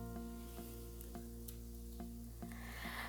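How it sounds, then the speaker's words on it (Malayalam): Onions and curry leaves sauté steadily in a hot pan, giving a soft, continuous sizzle with a few faint scrapes of stirring, close and quiet with no talking. "ഇനി കുറച്ച് കറിവേപ്പിലയും കൂടി ഇട്ട് കൊടുത്തിട്ട് നന്നായിട്ടൊന്ന് വഴറ്റിയെടുക്കണം."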